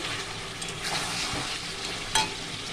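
Potatoes and chicken sautéing in hot oil in a pan, a steady close sizzle with faint stirring scrapes and one brief louder clatter near the end.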